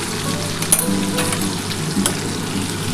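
Potatoes and pointed gourd fry with fish oil and fish fat in a pan, a steady close sizzle with light stirring scrapes and occasional spits.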